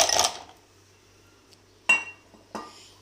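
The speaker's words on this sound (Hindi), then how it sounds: "अब मैं इसमें आइस क्यूब डालूंगी ज़्यादा सारे" Ice cubes go into a mint lassi made with yogurt, three separate clinks and clatters against a glass or container, the first a rattling cluster and the next two short sharp knocks.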